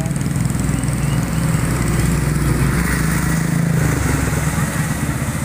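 A motorcycle engine troubled by rainwater getting inside runs close and loud in a rough, uneven drone, sputtering slightly without dying out over several seconds.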